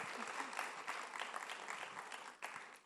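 Audience applause at the Ideas of India event welcoming a singer, lively clapping from a large crowd that swells and ebbs and then drops away near the end.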